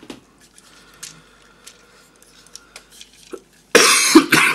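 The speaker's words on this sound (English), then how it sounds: "So I am suffering a bit with the cough." A person coughs in a short, harsh burst of several loud coughs near the end, after a stretch of quiet handling noises and faint clicks from posing a Titanium G1 Ultra Magnus transforming toy.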